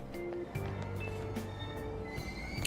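A train in the video game Persona 5 rumbles along with a steady low drone, scattered clicks and faint tonal chimes, all fairly quiet with no talking.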